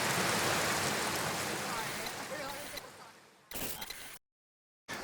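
Rushing water from a waterfall pours as a steady, loud broadband roar, then drops off with a short burst of rustling and a moment of near silence.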